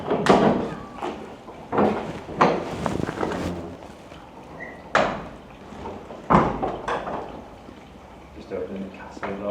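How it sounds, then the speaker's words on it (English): A heavy door of a French chateau being opened, with creaks, knocks and shuffling footsteps in several bursts, a voice talking over the handling noise. "Just opening the castle door."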